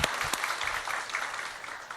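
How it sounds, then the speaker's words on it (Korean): Congregation at a Korean church service applauds in thanks to God, a dense steady wash of many hands clapping throughout, fairly close and loud with no talk over it. "우리 하나님께 감사의 박수를 드리겠습니다."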